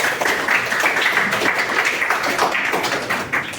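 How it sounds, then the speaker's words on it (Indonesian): Applause from a classroom of students, steady clapping that runs throughout at moderate level with no talk over it. "Beri tepuk tangan dulu untuk mereka"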